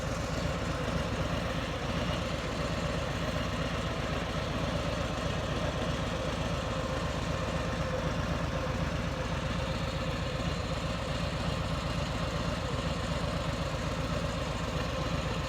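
A motorcycle engine idles steadily with a low, even rumble as the bike is eased forward on the clutch during a U-turn practice session for a new rider.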